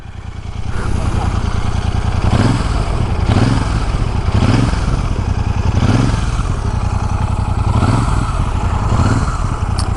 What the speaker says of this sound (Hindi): इसका एग्जॉस्ट नोट सुनिए आप